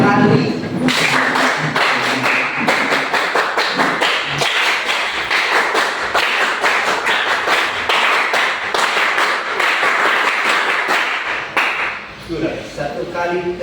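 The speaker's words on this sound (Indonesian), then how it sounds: "Tepuk pramuka 3 kali." A group of Pramuka scouts claps rhythmically together in a classroom, a loud, dense run of patterned claps that carries on for several seconds with brief pauses and voices mixed in.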